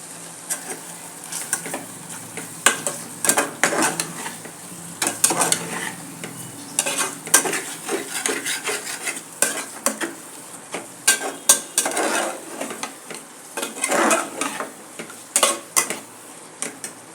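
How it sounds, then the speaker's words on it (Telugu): Chicken roasts in masala in a pan, sizzling steadily while a utensil stirs and scrapes against the pan in irregular bursts, close and alone without any talk. "బాగా మసాలా ఆ పచ్చి వాసన పోయే వరకు ఆ చికెన్ని ఆ మసాలాలోనే రోస్ట్ అలాగే చేద్దాం"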